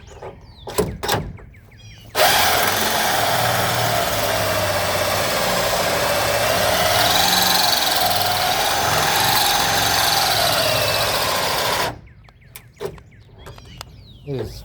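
A cordless drill running on old batteries bores through a part on an EM1 Honda Civic, one sustained loud whir lasting about ten seconds, with brief clicks and handling noises before and after.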